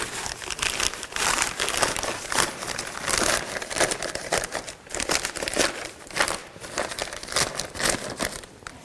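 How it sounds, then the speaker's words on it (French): Plastic film crackling and crinkling as it is laid over an old stable floor and passed under supports before a concrete slab pour, loud close rustling in uneven surges, with no speech. "Donc on fait passer le film dessous."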